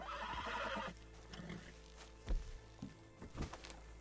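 A horse in the Red Dead Online video game lets out a loud, drawn-out whinny, followed by a few soft hoof thuds and faint clops against a quiet ambient background.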